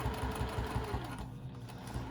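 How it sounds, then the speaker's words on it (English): Sewing machine back tacking over a vinyl seam at a D-ring strap connector, a quiet rapid mechanical chatter of stitches that runs steadily then softens near the end. "I'm going over my D-ring strap connector, and I'm going to back tack over that seam there"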